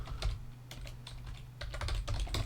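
Someone types a command on a computer keyboard, producing a quick, uneven run of soft, close key clicks over a low steady background hum, with no voice.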